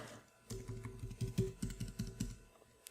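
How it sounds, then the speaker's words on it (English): Fast typing on a computer keyboard while filling in a form, a close run of crisp key clicks in an irregular rhythm lasting a couple of seconds against quiet room tone. "So I'm going to type in Adam Smith me@me.com."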